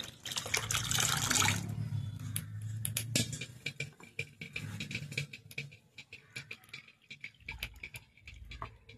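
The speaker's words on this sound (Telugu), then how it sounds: "ఇది చింతపండు రసం అయితే పోస్తున్నాను ఇందులో" Tamarind juice poured into a pot of cooked dal set on a wood-fired stove, a splashing liquid pour at the start followed by scattered drips and light clinks, with no voices.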